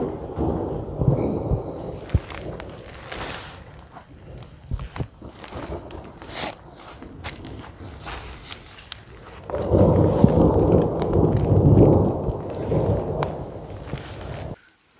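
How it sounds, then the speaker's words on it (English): Loud rolling thunder from a passing storm rumbles on and off on the Pacific Crest Trail, with a heavier, sustained roll near the end, alongside rain and scattered footsteps. "Thunder, a lot of thunder."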